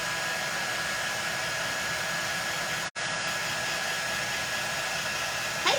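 A hair dryer blows steadily on a botanical craft project, a loud continuous airy roar with one instant cut-out midway before it resumes.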